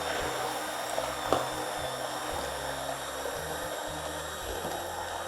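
A blender whirs steadily while pureeing dal soup with lemon juice, a continuous mid-level motor drone with slight pitch wobble and no talking.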